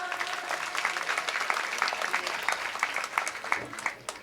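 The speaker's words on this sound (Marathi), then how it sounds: "जरा टाळ्या वाजवा." An audience at a comedy kirtan bursts into sustained applause, a steady rattle of many hands clapping together that holds at an even level before easing slightly at the end.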